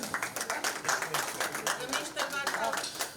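An audience at an Urdu poetry album launch claps, a dense, lively burst of hand claps that stays steady and fairly loud throughout.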